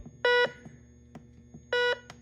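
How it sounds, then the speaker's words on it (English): A foldable metal detector's beeper at full volume sounds two short, clear electronic tones about a second and a half apart, separated by quiet background. "that's just to turn up and down the volume for, you know, the beeper when you're detecting metals and stuff"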